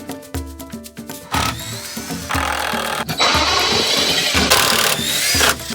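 A power tool unscrews fasteners from a wooden door form at an off-grid earthbag build: a close, loud buzzing whir that starts and stops in several bursts, with scraping and knocking between runs.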